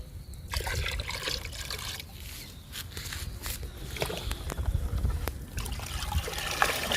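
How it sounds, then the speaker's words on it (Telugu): Liquid fertilisers are stirred into water for plants, producing sloshing, trickling and splashing sounds in irregular bursts close by, with no speech over it. "వాటర్లో లిక్విడ్స్ బాగా కలవాలి,"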